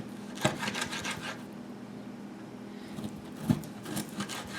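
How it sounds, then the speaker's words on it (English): A knife saws back and forth through meat, cutting it into small pieces, with two sharp knocks against a board; no voices. "Now we're gonna cut it into small pieces."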